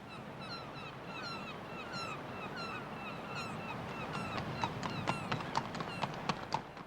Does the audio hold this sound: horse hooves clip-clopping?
yes